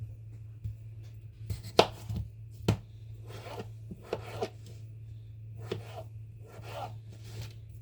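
Knife chopping vegetables into small cubes on a cutting board for a chunky vegetable soup, a handful of sharp close chops at irregular intervals over a steady low hum.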